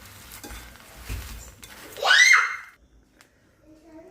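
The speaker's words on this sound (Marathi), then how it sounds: "हे गव्हाचे कुरमुरे ॲड करून घेऊ नंतर यामध्ये एक चमचा मीठ घालू मिक्स करून घेऊ" Wheat puffs for a chivda snack mix are stirred with a spoonful of salt: one short, close rustling, rattling sweep of the dry puffs, rising and fading within about a second, with quiet surroundings before and after.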